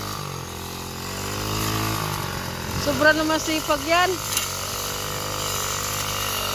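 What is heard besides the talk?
grass cutter running outdoors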